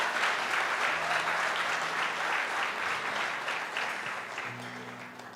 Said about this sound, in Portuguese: Pode aplaudir o Senhor aí